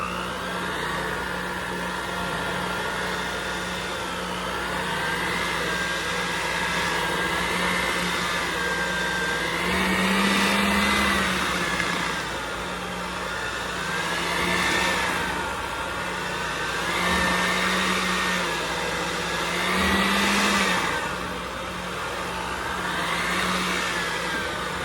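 An electric mixer whirs through thick cream cheese cake batter with buttermilk, a steady whining motor hum that swells and dips in slow waves as the beaters labor through the dense mix.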